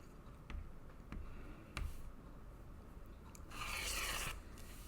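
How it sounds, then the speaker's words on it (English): Scissors cut a 6 by 8 inch piece of accent fabric for a padded camera bag strap, with a few faint snips and light clicks followed by a louder rasping cut near the end. "So I'm just going to go ahead and cut off a 6 by 8 inch piece"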